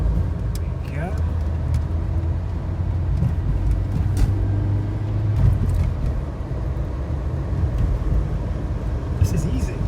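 A 1978 Audi 100 GLS drives along at low speed, its steady engine drone and road rumble continuous and close, with occasional voices over it.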